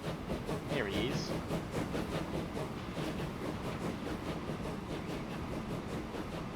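A train rolling along in the railway simulation game Transport Fever 2, a continuous rumbling with rhythmic clatter and hiss, steady and fairly loud throughout, with a voice talking over it.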